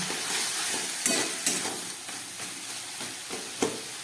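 Potatoes and vegetables with chili powder and coriander leaves being stirred in a frying pan, for a spinach and cabbage dish: a continuous sizzle broken by several sharp clacks of the spatula.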